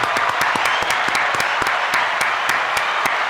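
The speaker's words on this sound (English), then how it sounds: "round of applause there." A round of applause on a podcast show, dense and steady clapping with a few sharp individual claps standing out, continuous for a few seconds with no talking.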